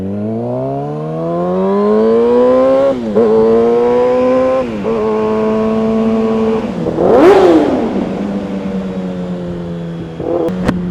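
A Kawasaki ZX6-R 636 sport motorcycle revs up through the gears while riding, its rising engine whine dropping at each shift, with a sharp rev peak near the end.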